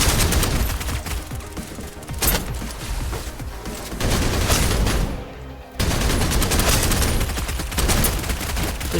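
Sustained gunfire in the sci-fi shooter SnowBreak: Containment Zone, dense rapid bursts filling the whole stretch with a brief pause midway, loud and close, with no talking over it.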